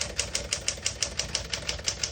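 Typing on a 1964 Smith-Corona Classic portable typewriter: about a dozen crisp, evenly spaced keystrokes clack in a steady rhythm, close and distinct with no talking.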